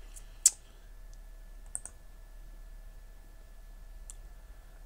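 A computer mouse clicks a few times, one sharp click near the start followed by a couple of fainter clicks spaced apart, close and quiet against a silent room.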